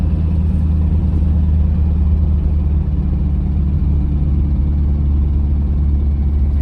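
A pickup truck's rebuilt engine runs steadily while driving on the road, a loud, continuous low drone with a smooth, even cabin rumble and no talk over it.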